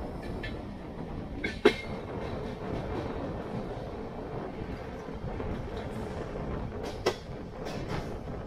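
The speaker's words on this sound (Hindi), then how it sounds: "तो इस समय हम पहुंच रहे हैं बेगमपेट रेलवे स्टेशन में" A passenger express train rolls into Begumpet railway station at night, heard from inside a first AC coach as a steady rumbling run with occasional clacks and knocks over the wheels.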